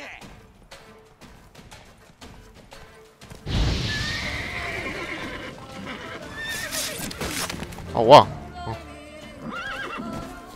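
A horse in The Witcher 3: Blood and Wine gives a loud, shrill neigh after its hooves clatter and thud nearby, with someone talking over the game sounds.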